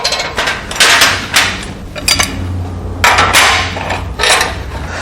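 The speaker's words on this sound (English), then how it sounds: "So I'm clamping the lower tree to the middle station." Motorcycle fork lower tree being clamped into a metal fixture in a workshop, with a series of loud, close metallic clanks and knocks in bursts, separated by short quieter pauses.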